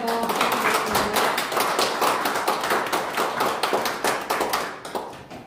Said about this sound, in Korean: 여러분 깜짝 박수 한번 부탁드립니다